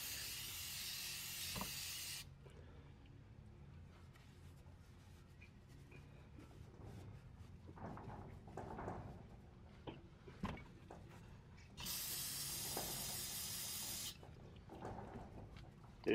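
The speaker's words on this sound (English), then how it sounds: "Spray a little bit more around the area." Two bursts of aerosol spray cleaner hiss around the oil filter of a 2006 Nissan Maxima during an oil change, each about two seconds long, one at the start and one near the end, with quieter handling sounds and light clanks between them.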